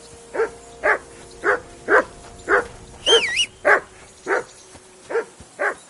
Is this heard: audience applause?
no